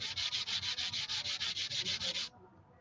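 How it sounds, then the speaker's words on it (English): The slots are sanded off the bridge of a century-old banjolin with quick, even back-and-forth strokes, about fifteen raspy swipes in steady rhythm before stopping. "I'm going to sand off the slots in this because they're not in the correct position"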